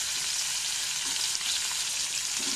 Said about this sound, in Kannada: ಈಗ ನಾನು ಈರುಳ್ಳಿ ಹಾಕ್ತೀನಿ. ದೊಣ್ಣಮೆಣಸು ಹಾಕ್ತೀನಿ.